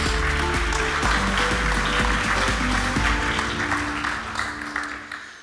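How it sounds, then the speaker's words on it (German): A lecture audience applauds an expo talk on buildings as energy systems, with a dense burst of clapping that holds steady and then thins out near the end. "Einen großen Applaus!"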